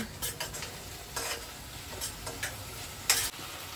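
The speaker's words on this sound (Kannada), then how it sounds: "ಈರುಳ್ಳಿ ಶುಂಠಿ ಬೆಳ್ಳುಳ್ಳಿ ಎಲ್ಲ ಚೆನ್ನಾಗಿ ಹುರ್ಕೊಂಡಿದ್ದಾದ್ಮೇಲೆ" Onion, ginger and garlic paste sizzle quietly in a pan while a utensil stirs and scrapes in short, irregular strokes.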